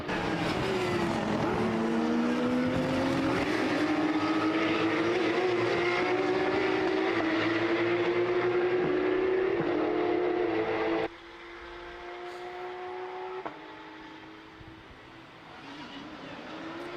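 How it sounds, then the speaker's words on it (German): Porsche race cars in a Porsche Sprint Challenge Suisse qualifying session on track, engines droning loud and close with rising pitch as they accelerate, then dropping after a sudden cut to a fainter, more distant engine note. "We have three new cars joining the track in our qualifying."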